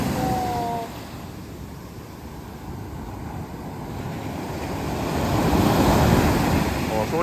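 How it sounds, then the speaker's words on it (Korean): Ocean waves crash and wash continuously nearby at Gangneung, swelling louder toward the end, with wind rumbling across the microphone. "가까이서 보니까 파도가 더 커."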